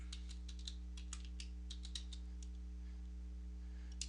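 Quiet, irregular clicks of keys being typed on a computer keyboard over a steady low electrical hum, with no voices.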